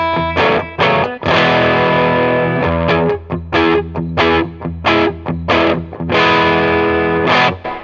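Electric guitar through an EHX Soul Food overdrive pedal, loud and alone: a held, crunchy chord, then a rhythm of strummed chords with short bright stabs and a final ringing strum.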